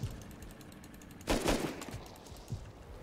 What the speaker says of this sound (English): I need to kill this guy shooting you.